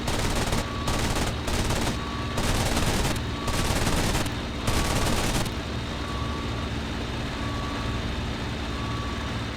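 Machine gun fire from a Bf-109F fighter in the flight sim IL-2 Sturmovik, heard as dense, loud bursts over a constant engine drone, stopping after a few seconds while the drone carries on.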